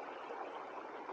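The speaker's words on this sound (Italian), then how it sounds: "mentre scorre abbracciando queste rocce. È un torrente che ci dona madre natura" A mountain stream flowing over rocks, its water rushing in a steady, even hiss, soft and continuous with no voices.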